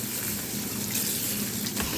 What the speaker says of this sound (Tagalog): Hinuhugasan ko lang kasi para pag kailangan na naka-ready na.